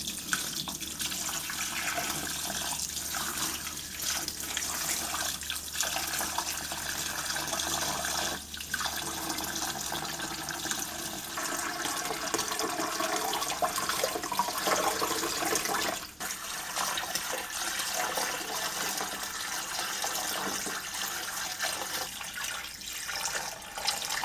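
Water pours and splashes continuously into a fish tank for a long stretch, a steady rushing gurgle with occasional shifts in flow and bubbling.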